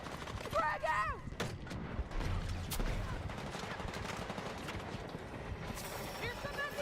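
Frag grenade thrown in a battle-royale video game, with a loud burst of explosions and gunfire-like blasts carrying on steadily for several seconds, with a voice talking over the action.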